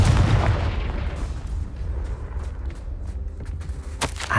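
A heavy blast from the Confringo fire spell in Hogwarts Legacy opens loud and booming, then decays into a low rumble with a few faint pops and a sharp crack near the end.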